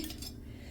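A metal kadhai handled in a home kitchen, a brief close clatter of metal against metal with no talk.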